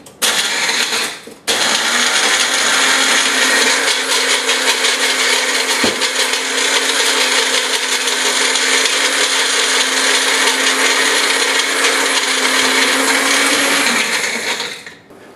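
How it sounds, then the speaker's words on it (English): A mini blender whirs loudly and continuously while crushing animal crackers, with a brief stutter near the start before running steadily at full speed, then cutting off. "You can either use your mini blender."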